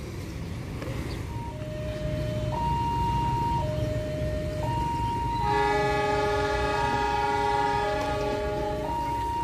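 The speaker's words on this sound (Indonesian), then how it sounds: "kereta api Argo Semeru berangkat stasiun Mojokerto" The Argo Semeru passenger train departs Mojokerto station on its Surabaya route, sounding alternating two-tone horn blasts and then a louder chord horn over a steady rumble of rolling cars, with no talk.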